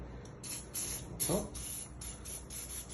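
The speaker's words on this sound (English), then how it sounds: "spray a little bit of lubricant up in there on the threads." Short hissing bursts of lubricant spray come from a can onto threads during a Sloan flush valve rebuild, several quick pulses in a row, close by with soft background noise.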